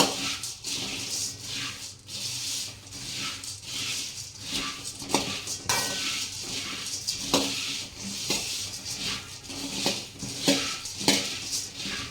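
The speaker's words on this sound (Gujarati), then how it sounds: "આ રીતના મમરા આપણે અંદર નાખી અને ધીમા તાપે આપણો તેલ લીધા એના શેકવાના છે" A utensil scrapes and clinks against a pan while puffed rice is stirred and roasted in oil over low heat. The strokes repeat steadily and stay close, with no talk.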